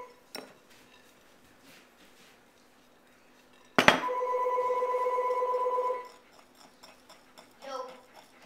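A telephone rings in a kitchen during banana bread baking, one sustained electronic ring of about two seconds, loud and bright, with faint clinks of utensils before and after.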